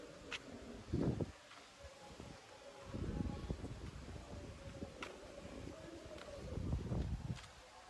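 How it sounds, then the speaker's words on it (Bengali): Strong wind gusts ahead of a storm rumble in irregular bursts against the microphone. The low buffeting rises and fades over a quiet background. "গাইস তো অনেক জোরে জোরে হাওয়া হচ্ছে।"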